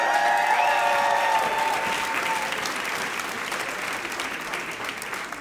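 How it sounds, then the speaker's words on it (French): A church congregation bursts into warm, sustained applause for the mothers, with many hands clapping in a broad, even roar that slowly eases off, and faint voices and cheers briefly mixed in at the start. "Est-ce qu'on peut les applaudir?"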